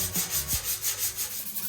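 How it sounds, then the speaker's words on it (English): A sanding block rubbed back and forth over the bodywork of a Mitsubishi Rosa bus, giving a steady series of close, rhythmic scraping strokes about every fifth of a second, with no talking. "now I'm going through with the sanding block and doing the upside down wiggle"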